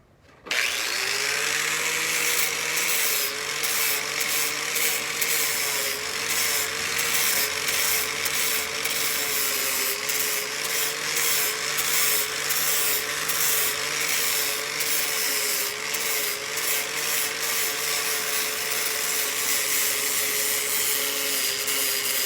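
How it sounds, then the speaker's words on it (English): A flap wheel of sandpaper strips on a power tool sands a wooden mantel, a loud, continuous whirring grind close by that holds steady for over twenty seconds with a faint rhythmic flutter and no voices. "this is the flapper wheel. It's just a bunch of little pieces of sandpaper on there, and we're just gonna sand away"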